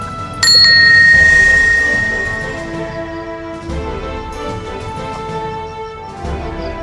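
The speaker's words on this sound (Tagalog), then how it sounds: "Doorbell pa nga ako." A bright electronic doorbell chime rings out sharply, its tones lingering and slowly decaying, with faint background noise afterward.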